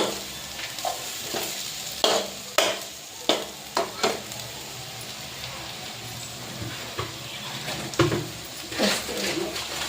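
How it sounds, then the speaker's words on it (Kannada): Rajma curry masala fries and sizzles in a pan while a spoon stirs it, a soft steady sizzle broken by repeated close scraping strokes at irregular intervals, no voices. "ಈ ಥರ ಫ್ರೈ ಮಾಡ್ತಾ ಇರಬೇಕು."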